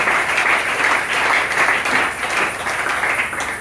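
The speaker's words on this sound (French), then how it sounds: "Acclamez pour le Seigneur." A church congregation at an ordination service breaks into sustained, dense applause for the Lord, loud and steady, swelling and easing slightly over a few seconds.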